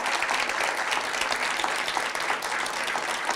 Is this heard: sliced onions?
no